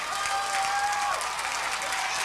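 A packed stands crowd at a high school football game roars and cheers continuously, a dense sustained wash of applause and shouting with a whistle cutting through briefly.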